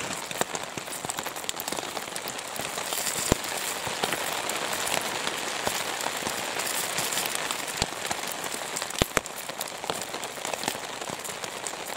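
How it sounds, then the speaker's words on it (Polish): Steady rain falls at night in a forest, a dense, even patter of drops on leaves and ground with occasional louder close drops, continuous and alone without voices. "fajne wrażenie takiego deszczu"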